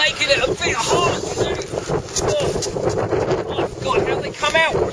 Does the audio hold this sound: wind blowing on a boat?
yes